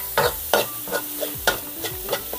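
Garlic and onion sauté in a hot pan, stirred in several distinct scraping strokes about every half second over a soft, steady sizzle, heard up close without speech.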